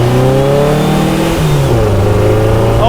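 A dune buggy engine, freshly upgraded, revs hard as it accelerates, its tone climbing and shifting through gears in a loud, continuous, close-up roar with no talk.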